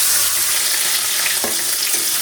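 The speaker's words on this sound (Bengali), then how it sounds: "তেল গরম হয়ে গেছে এবার দিয়ে দেবো ভাপিয়ে রাখা বীজ কলা" Steamed plantain pieces hit hot mustard oil in a wok, giving a loud, close, continuous sizzle with brief sharper crackles partway through.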